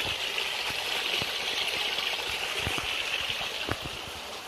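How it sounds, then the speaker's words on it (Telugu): A small forest waterfall at Palakonda, Kadapa, pours in a steady, even rush of water, with faint scattered splashes and trickles close by. "ఇక్కడి నుంచి కూడా ఫాల్ వస్తుంది"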